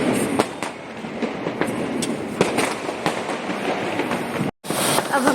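Diwali firecrackers go off outdoors in a dense series of sharp cracks and pops, some near and loud, others farther away, over a steady crackling din with a brief cut near the end.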